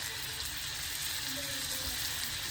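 Meatballs frying in a pan for Ramadan iftar snacks give a steady, dense, close sizzle that holds evenly throughout with no pauses.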